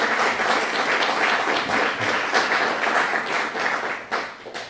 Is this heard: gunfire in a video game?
no